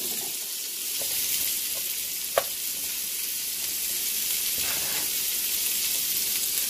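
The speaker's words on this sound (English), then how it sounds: "We're gonna add the rice to the pot." Rice tipped into a hot pot for Jamaican rice and peas, giving a steady soft sizzle throughout with one sharp clink partway, heard alone with no talking.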